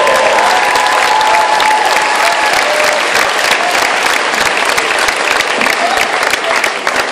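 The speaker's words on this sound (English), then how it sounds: "Let's hear it for number 10, Raphael Jordan." Loud, sustained applause from a large crowd at a college basketball senior day pregame fills the arena, steady and dense throughout with a faint tonal hum underneath.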